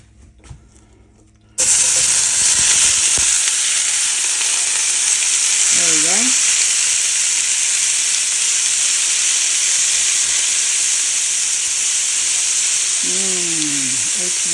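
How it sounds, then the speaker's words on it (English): Shrimp sizzles loudly and continuously in a very hot skillet after a sudden start, a steady bright hiss with occasional stirring clatter. "it's almost like I'm stir frying it. The skillet is so hot."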